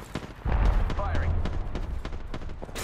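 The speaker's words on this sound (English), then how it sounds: "Listen up, I'm getting shot at." Gunfire in the video game Apex Legends cracks out as a heavy boom followed by a string of sharp shots, with a voice speaking over the firing.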